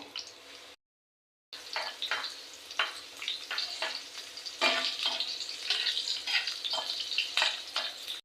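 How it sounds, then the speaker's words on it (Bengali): Steady crackling sizzle of chopped onion and dried red chillies frying in hot oil, close and continuous, with a brief silent break near the start. "তেলের ভিতরে পেঁয়াজ কুচি দিছি আর জায়গা শুকনা মরিচ দিয়ে দিলাম"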